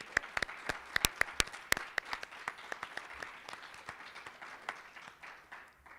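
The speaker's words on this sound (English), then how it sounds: "Let's take a quick moment to give them a round of applause" An audience at a fraternity and sorority awards ceremony applauds the award finalists with sparse, distinct claps from a small group. The claps start brisk and loud, then thin out and fade.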